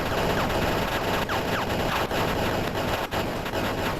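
Tesla turret in the Mindustry video game firing in rapid, dense bursts of crackling shots that run continuously and loud, with a few brief dips, no talking over it.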